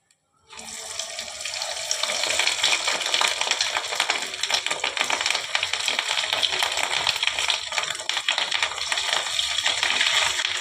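Fish roe pakoras deep-frying in hot oil make a dense, steady sizzle that starts abruptly and holds loud and close, with no talking.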